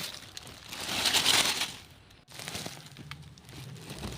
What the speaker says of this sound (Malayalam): അപ്പോൾ എഗ് ഷെല്ല് ഒന്ന് കൈകൊണ്ട് ഞരടി പൊടിച്ച് കൊടുക്കണം